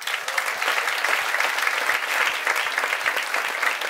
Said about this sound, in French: Encore une fois, moi je vais vous applaudir.